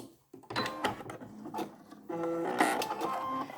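A sewing machine backstitches a triple-layer washable fabric face mask, sounding as a few short bursts of rapid mechanical stitching separated by pauses, close and moderately quiet.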